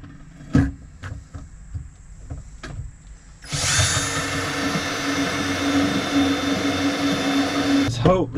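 A power drill bores holes into the floor of a school bus being converted into a skoolie, a loud continuous whirring grind starting partway through after a few clicks and taps, close by with no talk.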